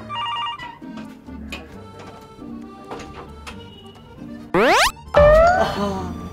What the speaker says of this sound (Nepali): टेलिफोन आएर बितायो मलाई त